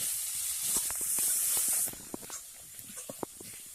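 Spices with salt and turmeric sautéing in a pan make a bright hissing sizzle that fades after a couple of seconds, followed by scattered spatula scrapes and clicks.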